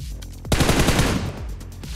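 A loud, close burst of rapid automatic gunfire in the BGMI video game, with one sharp shot before it and sparser shots trailing after.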